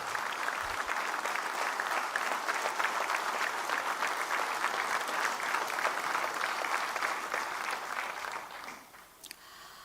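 A crowd at a political rally applauds, dense sustained clapping from many people that fades out near the end, with no voices over it.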